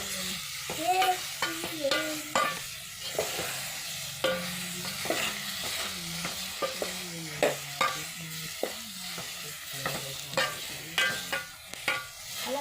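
Masala with coconut being stirred and fried in a pan at home, with steady sizzling under repeated scraping and clinking strokes of a spoon against the pan, close and continuous.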